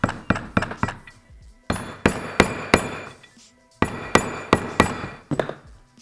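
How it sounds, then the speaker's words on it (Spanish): Hammer knocking a 17 mm socket to drive a seal into a two-stroke kart engine, sharp metallic taps in bursts with ringing decay and short pauses between groups, close and clear. "Alojamos el primero y con el vaso y un martillo"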